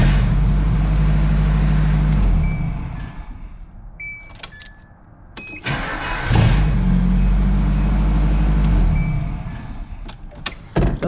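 A 1st-gen Nissan Hardbody truck's engine, tested after a new starter was fitted, runs loud and close, drops away for a few seconds with clicks and jingling keys, then fires up again and idles strongly.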